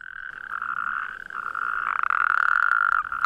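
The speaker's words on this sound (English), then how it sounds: "Said to be Europe's noisiest amphibian, the natterjacks can be heard up to several kilometres away." Natterjack toads in a South Downs heathland chorus, a continuous loud rattling trill from several males calling together, swelling in intensity toward the end with no talk over it.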